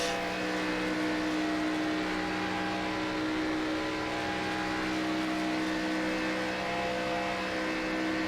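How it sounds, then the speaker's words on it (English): Engine-damaged race car running at Daytona in a stock-car racing video game, a loud, steady, unbroken engine drone with a rough buzzing tone, close and alone with no talk. "Here Frank's car sounding a little bit off noise. Sounds like he's still suffering a little bit of that engine damage"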